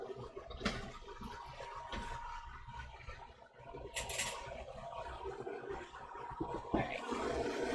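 A hot glass heart pendant is plunged into a container of water, giving a soft watery hiss and gurgle that runs for several seconds with brief splashy bursts, close and moderately loud.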